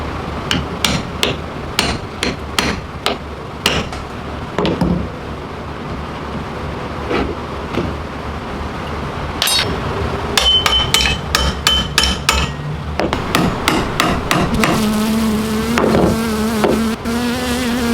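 Sharp, rapid hammer blows on countersunk nails in a wooden gazebo housing a bee hive, coming in quick bursts with brief pauses, loud and close, with a faint buzz of bees beneath.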